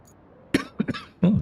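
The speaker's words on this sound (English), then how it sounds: "Oh dear, coughing now." Three sharp coughs close by, two quick ones then a heavier, drawn-out cough after a short pause, in a quiet room.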